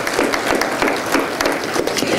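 A crowd at an outdoor Memorial Day remembrance ceremony at a national cemetery applauds a concert band, loud, dense clapping sustained evenly across the whole stretch with no talk over it.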